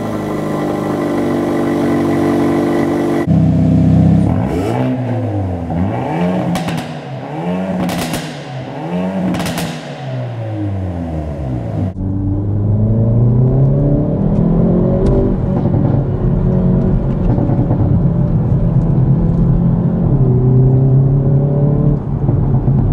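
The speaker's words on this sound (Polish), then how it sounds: "nie sposób jest nie wspomnieć o wydechu, który brzmi tak" A 2022 Hyundai i30 N Fastback with a 2.0 T-GDI 280 hp engine idles loudly, then its exhaust blips through several sharp revs, followed by a long rising rev that settles back to a rumbling idle, close up and alone.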